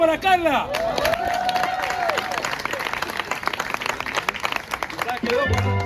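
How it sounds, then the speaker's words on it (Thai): A crowd in Buenos Aires applauds steadily with dense, continuous clapping, and voices and cheering mix in among the claps throughout. "เหมือนได้ยินเสียงปรบมือได้ยินปะ"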